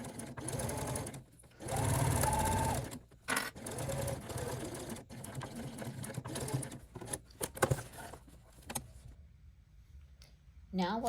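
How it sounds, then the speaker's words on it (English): A sewing machine fitted with a walking foot stitches satin binding onto stretch fleece, its steady motorized whirring running in bursts with brief pauses and a few clicks, fairly close and loud throughout. "I've already got my walking foot on the machine, as that's what I'll be using when I'm putting the binding on."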